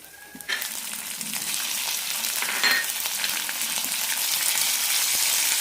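Tomatoes and chillies sauté in a pan for mustard tomato chutney, giving a loud, continuous sizzle with occasional stirring scrapes and no talk.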